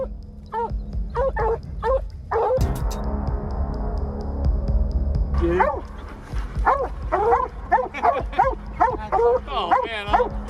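Several blue-tick coonhounds and plott hounds bark and bay repeatedly over a low rumbling hum, with a brief burst of noise partway through and more barking after.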